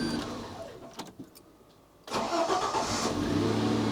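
A Citroen XM 3.0 24V engine runs, cuts off into near quiet, then cranks and catches again. It settles into a steady idle, heard close by with no talking.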